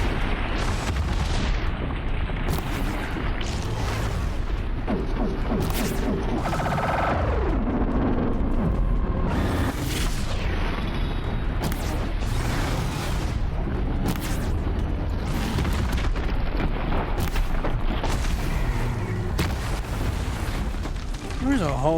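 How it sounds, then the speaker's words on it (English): Repeated explosions erupt around the player in Horizon Zero Dawn, loud booms and bursts arriving every second or two over a constant rumble, with someone talking over them. "There's a whole lot of explosions with that, and I do not know why."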